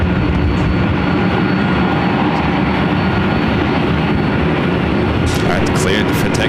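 Jet airliner rumbling down runway 24 left at LAX on its takeoff roll, a steady, heavy broadband roar that stays loud and constant throughout, with faint brief sounds near the end.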